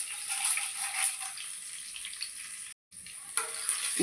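Cumin, mustard seeds, green chili and chana dal frying in oil in a pan, a soft continuous sizzle with light stirring, a brief break, then the hiss resumes slightly louder.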